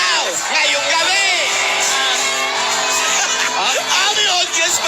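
A barangay show crowd shouts, whoops and cheers loudly and continuously, with excited voices overlapping throughout.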